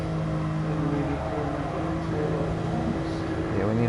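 A race car engine in Gran Turismo Sport drones steadily and loudly, holding a sustained pitch, then climbs as it revs up near the end.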